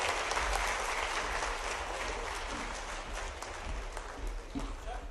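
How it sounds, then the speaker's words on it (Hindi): Steady applause from a crowd at a live Madhya Pradesh police promotion event in Balaghat, a dense continuous wash of clapping at moderate level throughout, with no clear speech standing out. "एक बार जोरदार तालियां बजाएं।"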